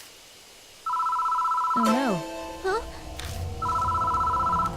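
A telephone rings in the horror video game Death Mark: a steady electronic ring sounds, pauses for a short exclamation and a rising in-game tone, then rings again, clear and close.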